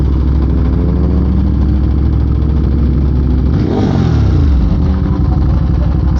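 A 2022 Ducati Monster motorcycle engine accelerates on an interstate, a loud, close, continuous roar whose pitch sweeps down through a gear change and climbs again, with steady wind noise and no talking.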